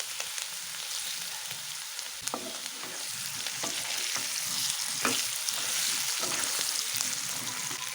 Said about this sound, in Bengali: এখন আলুটা একটু ভাজা হয়ে গেছে